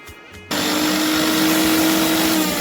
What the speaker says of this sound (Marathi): सर्व ते छान ग्राइंड करून घेतलेलं आहे.